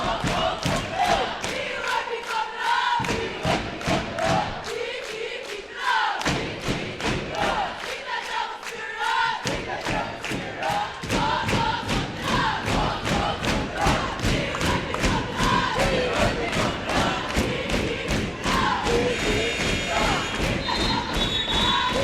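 A crowd roars steadily inside a packed high school gym during a tight boys' basketball tournament game between Attica and Letchworth in its final seconds, with dull thuds of a bouncing ball and sneakers cutting through the loud, continuous noise.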